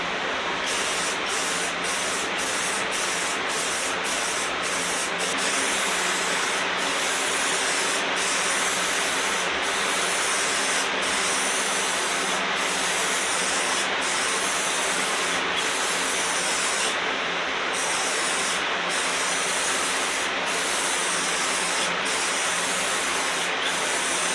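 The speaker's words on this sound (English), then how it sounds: "I'm gonna throw a real quick coat of this clear coat on here." A steady, loud hiss of spray gun clear coat being applied to a mid-century modern bedroom furniture piece runs continuously, broken by brief regular pauses between passes, with no talking.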